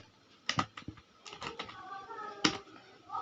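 Someone types a company name on a computer keyboard while entering data in Tally Prime accounting software: a few quick clusters of faint, close clicks separated by short pauses.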